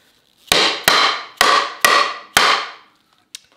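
Five sharp strikes of a chisel chopping into wood while cutting dovetail sockets, then a sixth lighter tap, close up with no talk.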